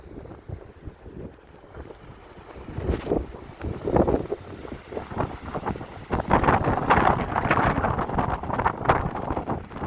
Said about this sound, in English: It's plenty windy out here.